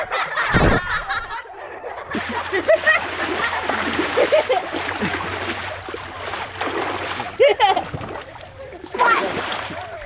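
Kids splashing water in a pool, bursts of sloshing and splattering that come and go amid giggling, laughter and chatter nearby.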